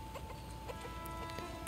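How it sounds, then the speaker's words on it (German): Chickens cluck in God of War Ragnarök, a run of soft, quick clucks and chirps repeating over a low ambient game bed, fairly faint and steady throughout. "Die sehen echt aus wie echte Hühner."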